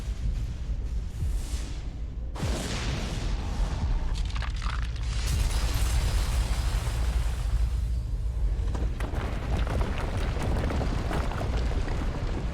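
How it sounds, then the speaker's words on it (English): Deep rolling thunder and the rumble of an avalanche on mountain slopes in the Pillars of Eternity video game, with a sudden booming onset followed by sustained, reverberating low roar. "Thunder echoes from the mountain tops as great sheets of ice and snow tumble down the slopes."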